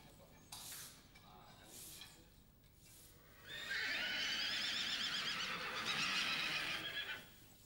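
Young colts neigh loudly in a communal stable at the Marbach stud, a long shrill whinny dominating the second half after fainter calls and stable noises, with some speech at the start.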